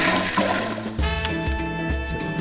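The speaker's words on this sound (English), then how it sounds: "Flush the toilet." A toilet flushes in the cooking game Cook, Serve, Delicious, a short burst of rushing water followed by a steady gurgling refill with faint tones over it.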